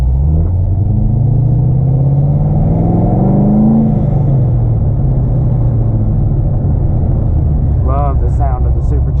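A 650-horsepower supercharged Corvette being driven, a loud, deep continuous engine rumble with rising and falling revs and supercharger whine from inside the car, with brief talk near the end.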